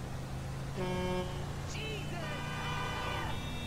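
A car horn honks in GTA V, two longer toots sounding over steady engine hum and game sound, with a voice talking around them.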